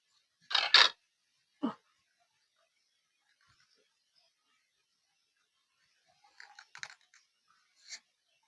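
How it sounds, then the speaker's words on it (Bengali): A knife slicing through a rolled chicken patties roll on a board at home, giving two or three short crunchy cuts near the start, then a quiet pause and a cluster of soft scraping taps toward the end. "এবার একটা ছুরি দিয়ে এইভাবে আমি কেটে নেব"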